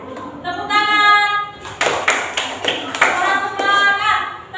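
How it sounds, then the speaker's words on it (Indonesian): Pupils in a classroom clap their hands in a short, quick burst of several sharp claps, set between stretches of children's voices. "Tepuk tangan."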